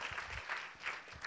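A church congregation applauds during a Sunday evening praise service, with steady dense clapping from a crowd throughout a short burst and no talk over it.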